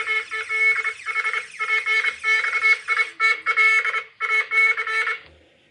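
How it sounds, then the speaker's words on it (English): A panic alarm triggered from the Texecom app sounds loud and close, a shrill electronic tone pulsing in rapid repeated bursts with short gaps before it stops abruptly. "the panic alarm is on."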